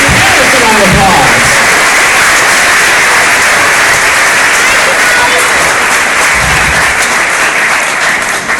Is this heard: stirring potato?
no